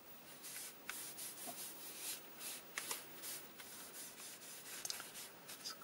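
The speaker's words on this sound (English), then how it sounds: "Scrub a little bit over it. Only very gently, not too hard." A small towel damp with isopropanol rubbed gently over a Commodore C64 keyboard, producing soft, close, rhythmic scrubbing and brushing strokes in repeated short passes.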